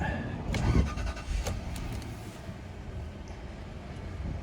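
At a Copart auction yard, a car engine cranks and catches, with a few clicks and a brief rising burst before it settles into a low idle rumble.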